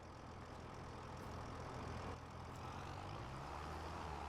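A tractor engine in Farming Simulator 25 drones steadily on the East Frisian Coast map, a continuous broad rumble with no talk over it.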